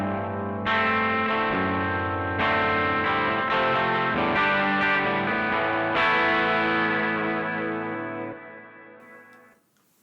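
An electric guitar plays sustained chords through a TC Electronic Arena Reverb pedal set to a long reverb, each strum ringing loudly and blending into the next before a slow tail fades out.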